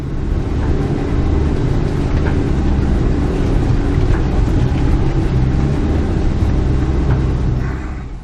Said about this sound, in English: Just let the tyres do the work and climb up over these rocks.